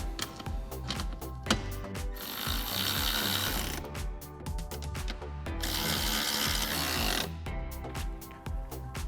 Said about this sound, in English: And then we can use our T40 bit on an electric ratchet and tighten these down.